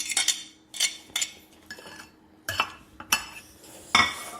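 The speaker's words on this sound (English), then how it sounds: "what I'm going to do is to mash this with the blueberries" A utensil mashes avocado with blueberries in a bowl, giving sharp, close scraping clinks and taps in irregular bursts against quiet background.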